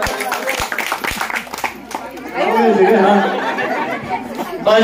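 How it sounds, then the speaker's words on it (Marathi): Audience at a women's Home Minister stage event claps, with scattered claps early on swelling into sustained, fairly loud applause mixed with crowd chatter and voices. "जोरदार टाळ्या वाजवा"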